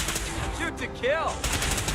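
Gunfire in the Fallout 4 video game, a dense burst of shots over continuous background noise, with a voice and whistling tones partly mixed in.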